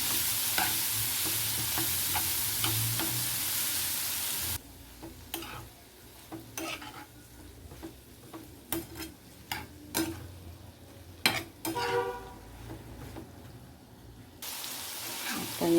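Soaked soybean chunks in a pan on a griddle: a loud steady sizzle for the first few seconds, then quieter stretches punctuated by repeated spatula scrapes and clinks as the chunks are stirred, with the frying hiss returning at the end.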